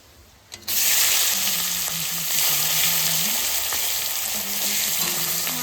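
Onion and dried red chilies hit hot oil with a sudden loud hiss that settles into a strong, continuous frying sizzle, close and steady, with no talking.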